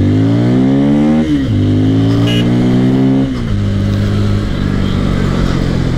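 A Bajaj Pulsar 250 motorcycle rides past loud and close, its exhaust note rising through the gears with two audible shifts as the engine drones steadily throughout, with no voices.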